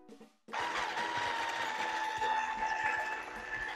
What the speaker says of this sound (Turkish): Çırpıcıyla bir çırpacağım.